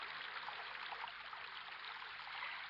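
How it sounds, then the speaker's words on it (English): River water rushes steadily past a drifting boat, a continuous bright hiss of flowing current with no breaks, moderately loud and heard alone. "the boat drifted away from the bank and began racing downstream"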